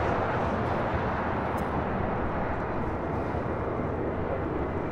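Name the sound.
Boeing 787-8 Dreamliner pushing back at LAX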